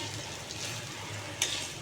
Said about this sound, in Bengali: বড়াগুলো উল্টে দিলাম,